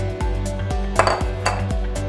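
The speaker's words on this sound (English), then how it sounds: "Give the cookie dough a nice mix together by hand." Pumpkin oatmeal chocolate chip cookie dough is mixed by hand in a bowl, making rhythmic dull thumps and light clinks about twice a second over a low steady hum.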